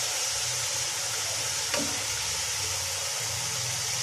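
Bone-in meat and garlic-ginger paste frying in a pot for haleem, giving a steady close sizzle with a hissing wash and one brief stir or scrape midway.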